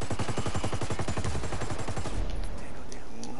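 Rapid automatic gunfire from a video game shooter match, a dense burst of close, loud shots that thins out toward the end, with players' voices talking over it.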